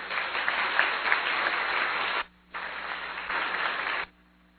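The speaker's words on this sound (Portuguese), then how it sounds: "Pode aplaudir" An audience claps at a formal solemn ceremony, a dense steady burst of applause that cuts out briefly, resumes and then stops abruptly, heard without talking.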